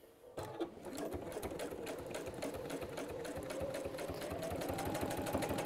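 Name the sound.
sewing machine top stitching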